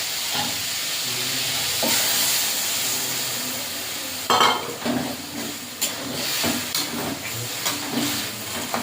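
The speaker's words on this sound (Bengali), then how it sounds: "এবারে জল দিয়ে দেবো" Water hits a pan of frying ivy gourd and potato, a steady hiss and sizzle at first, then a sudden louder burst of bubbling steam and spatter, followed by uneven stirring and crackling.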